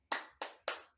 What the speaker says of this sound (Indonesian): kita beri dulu tepuk semangat